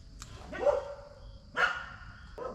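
Several livestock guardian dogs bark at a neighbor walking a dog nearby, three loud yelping barks spaced about a second apart, a little distant over steady outdoor background noise.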